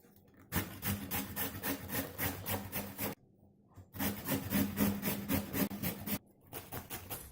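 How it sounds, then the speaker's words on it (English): Cauliflower florets rubbed against a grater in quick rhythmic rasping strokes, two close steady bursts of scraping with a short pause between them. "Either you chop it very finely or you could use a grater."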